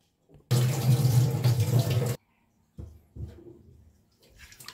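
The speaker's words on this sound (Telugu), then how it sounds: "ఆ మటన్ మనం శుభ్రంగా వాష్ చేసుకుందాం 2-3 సార్లు" Raw mutton, half a kilo, washed by hand under running water in a kitchen sink: a loud, steady rush of tap water for about two seconds, then quieter splashing and sloshing bursts as the meat is rinsed.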